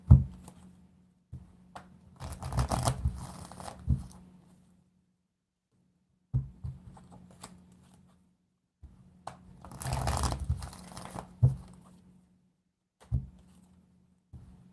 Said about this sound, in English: Sorry, shuffling the cards real quick before we start.